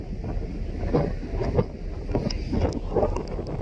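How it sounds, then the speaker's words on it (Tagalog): Strong wind buffets the deck of a 2Go cargo ship at sea, roaring and gusting against the microphone with low rumbling underneath and no voices. "Taas na hangin"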